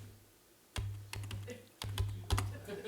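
Several separate key presses on a computer keyboard, sharp clicks spaced irregularly against a low steady hum, with no talking.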